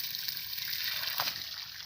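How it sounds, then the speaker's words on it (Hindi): Water runs steadily from a submersible pump on a solar-powered setup in Karachi, a continuous close splashing flow through a one-inch outlet with no talk over it. "ये पानी चल रहा है 1 इंच के अराउंड जो है ये समरसेबल का पानी है"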